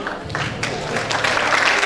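Clapping from an audience at an award ceremony, a steady wash of applause lasting throughout, fairly close and even.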